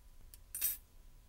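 A metal spatula scoops a pinch of ammonium salt into a glass test tube, giving two quiet, brief clinks in otherwise near-silence.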